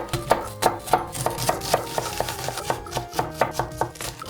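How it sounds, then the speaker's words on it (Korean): A knife finely chops half an onion on a cutting board while making braised tofu. Crisp, close, regular strikes repeat at a quick, even pace with little else around them. "나머지 반 개는 잘게 잘라줍니다"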